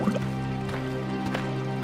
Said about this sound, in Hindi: अपने अपने मटके में पानी भरकर